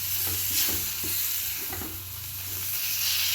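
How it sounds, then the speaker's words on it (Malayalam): Two tomatoes sauté with onion masala in a pan for prawn roast. A continuous close sizzle runs under repeated quick stirring scrapes, and no voices are heard. "തക്കാളി നന്നായി വഴറ്റണം"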